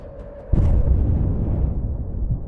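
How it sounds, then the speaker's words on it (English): An artillery shell strikes a tank on a battlefield: one sharp, heavy blast lands abruptly, then a loud, rumbling roar holds and slowly tails off, with no speech. "Another accurate shot hits the tank precisely"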